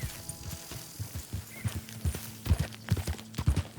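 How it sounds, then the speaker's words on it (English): Horse hooves clip-clop in a steady, close rhythm in the video game Red Dead Redemption 2, with the sound of gear and tack and no talking. "That's a fine horse you got there."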